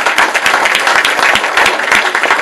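An audience at a 2019 New Year's greetings event applauds steadily, a dense, close wash of many hands clapping at once with no voices over it.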